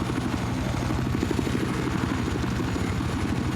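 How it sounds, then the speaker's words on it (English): A helicopter in the Battlefield 4 video game, flying high, gives a steady, loud rotor chop with an even pulsing beat throughout and no talk over it. "Chopper's flying way too high at this point"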